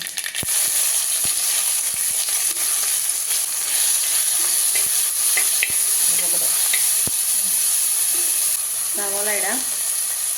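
Mustard seeds and green chillies sizzle steadily in hot oil for a Kerala-style beef curry, with sharp pops and spoon clicks scattered through the hiss; a voice speaks briefly near the end.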